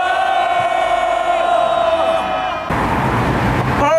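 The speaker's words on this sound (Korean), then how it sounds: "함성 3초간 발사!" A union rally crowd at an outdoor protest lets out a loud collective shout for about three seconds, after which the massed voices give way to a rougher, noisier roar of cheering.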